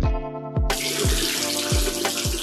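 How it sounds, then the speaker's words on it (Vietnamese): A bathroom sink tap runs steadily during face washing, a continuous close splashing rush of water that fills the whole clip, with repeated short tonal sweeps underneath. "Và cuối cùng là rửa mặt thật sạch."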